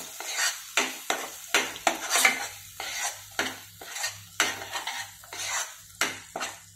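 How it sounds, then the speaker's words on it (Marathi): A spoon stirs dal paste and green chilli thecha for a Gajanan-style chutney in a pan. About a dozen rhythmic scraping strokes sound up close, with a faint sizzle underneath and no speech. "हे सगळं डाळीचं वाटण आणि तो मिरचीचा ठेचा छान असं मिक्स करून"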